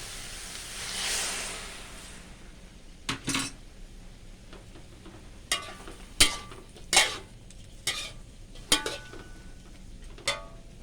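A little water is added to broccoli and cabbage stir-frying in a pan: a brief hiss, then a run of loud metal scrapes and clinks from a spatula working the vegetables, close by and without talk.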